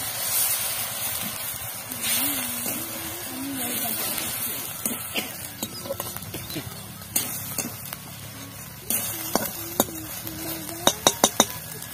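Water left from washing onions goes into a pan of frying vegetables for veg momo filling, and a loud, steady sizzle and hiss follows. A spoon scrapes and clinks against the pan, and someone speaks over the cooking.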